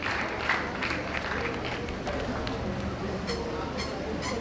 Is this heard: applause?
yes